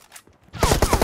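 PUBG gunfire in Erangel: a quiet lead-in, then a rapid burst of loud, close shots fired in quick succession, like an automatic weapon.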